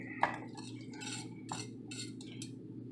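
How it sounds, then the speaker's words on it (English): Greens and meat mixture for a breakfast frittata being stirred in a bowl, with a few soft clinks and scrapes of utensil against dish over a steady low kitchen hum. "So now, we're gonna mix it."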